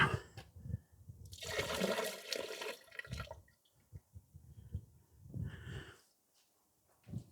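Liquid sediment of dead yeast glugs and splashes as it is swirled and tipped out of a glass demijohn after elderflower wine racking, a brief burst of pouring followed by short trickles.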